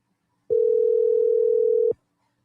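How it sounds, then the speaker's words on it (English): A telephone call ringing out as a single steady electronic tone lasting about a second and a half, loud and clean against near silence, with no talking. "hopefully my buddy answers the phone."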